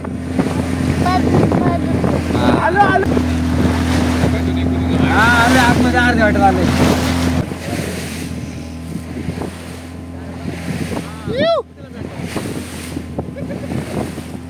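Steady wind and water rush surround a boat on the sea off Padmadurg fort, a constant loud hum that later drops lower, with people talking over it and a brief sharp whistle-like sweep.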